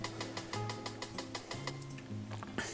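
Very short chopped slices of a cat meow sample, without effects, repeat in a quick rhythmic pattern like a hi-hat, faint, dry and ticking, with brief tonal blips between hits.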